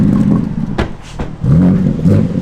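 A Toyota 86 engine revving, a loud nearby rise and fall of the motor with a couple of quick blips and a steady mid-range drone, no talking.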